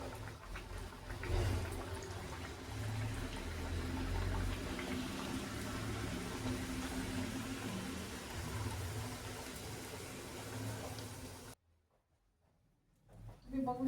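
Sweet wheat-flour jaggery puris frying in hot oil make a steady, dense bubbling sizzle for about eleven seconds before it cuts off abruptly into near silence.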